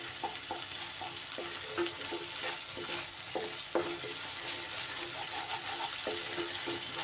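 Masala frying in a pan for a fish curry, with a spoon scraping and stirring through a steady sizzle, close and continuous, with scattered soft knocks against the pan.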